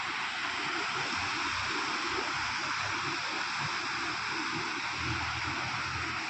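Steady rush of constantly flowing stream water at an outdoor spot in Bankura, a continuous full-band roar with gurgling low churn, close and unbroken, no talk.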